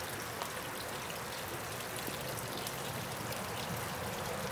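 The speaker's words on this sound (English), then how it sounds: "It's kind of a simple fountain." Water splashes steadily from a square sunshine bowl fountain, a continuous bright trickling and pattering heard close up, with no talking.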